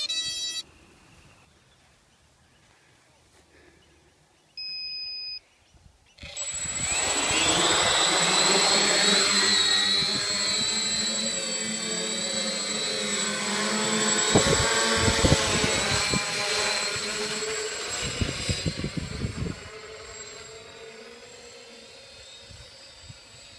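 Spider 500 hexacopter drone with Turnigy 2836 1000kV motors starts up after a few quiet seconds and a brief beep, then a loud sustained whine as it flies, the pitch rising and falling as it climbs and maneuvers nearby.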